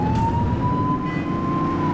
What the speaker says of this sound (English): Get on their tail and blip the siren.